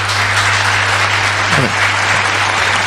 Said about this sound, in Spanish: Dele un aplauso en esta noche.